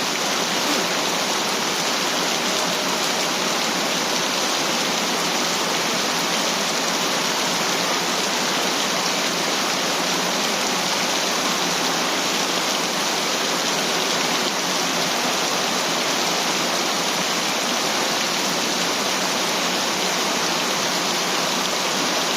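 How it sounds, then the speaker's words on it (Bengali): Heavy rain pours in a dense, unbroken hiss of drops striking surfaces, loud and constant throughout with no voices. "কি পরিমাণ বৃষ্টি রে ভাই!"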